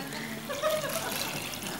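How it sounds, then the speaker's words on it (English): Filthy water pouring into a water filter bottle, a steady close splashing trickle with light background noise and no talk. "So I'm going to take this really filthy water and put it in here."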